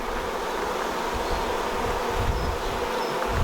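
Honeybees buzz in a dense, steady drone during the transfer of a hive, close and continuous throughout.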